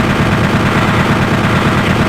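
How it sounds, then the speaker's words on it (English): Chain gun firing in Doom 64, a rapid, continuous burst of loud gunfire rattling without pause. "let's get the chain gun out"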